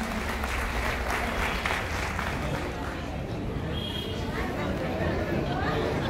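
A crowd at a Bhim song performance and inauguration in Khamgaon gives sustained applause, a dense, even patter of many hands clapping for the whole stretch, fairly distant.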